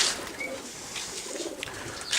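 Racing pigeons perched on a wire coo softly, their low murmurs faint against outdoor ambient noise.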